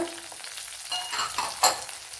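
Garlic and cut green chili sizzle in a hot pan for an egg masala curry, a steady close frying hiss with a brief louder burst of stirring, and no voices.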